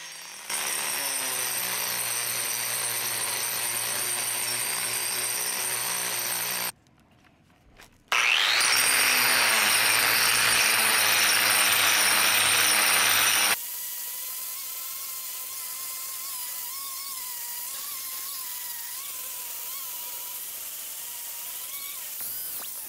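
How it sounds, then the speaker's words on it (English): A 4-inch disc grinder grinds concrete at an angle during a DIY repair, giving a loud, steady, close abrasive whine. It breaks off briefly near the middle, returns, then drops to a quieter, wavering tone. "I'm going to take the grinder at an angle and work my way down to the other concrete"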